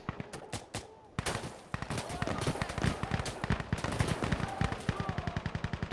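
Rapid machine gun fire in a military video game, a steady stream of loud, evenly spaced shots that grows denser and continues without pause, with faint talk underneath.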